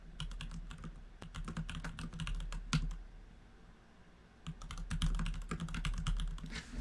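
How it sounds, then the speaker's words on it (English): Fast, furious typing on a computer keyboard, a dense close patter of keystrokes with a brief lull midway before the clatter resumes, heard alone without speech. "I hear furious typing"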